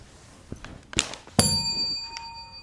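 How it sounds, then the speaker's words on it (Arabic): A game-show buzzer bell rings with a bright metallic ding after a few light taps and thuds, leaving a clear ringing tone that fades for over a second. "الجرس. الجرس."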